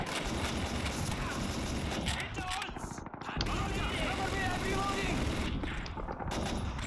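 Machine gun fire in the World War II shooter Call of Duty 2, a steady busy crackle of distant automatic shots and battle noise under continuous game ambience.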